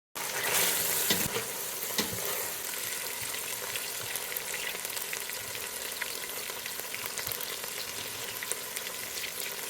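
A spice paste of garlic, ginger and cumin fries in a pan with a continuous close sizzle, broken by occasional stirring scrapes and small pops. It stays fairly even in loudness throughout, with no voices.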